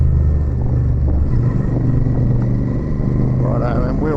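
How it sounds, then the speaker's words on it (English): Royal Enfield motorcycle fitted with a Rhino Racing exhaust, its engine rumbling steadily and close by, with a burst of crackling pops toward the end; a voice talks over the engine. "I love the reverb pops I get since putting the Rhino Racing exhaust on."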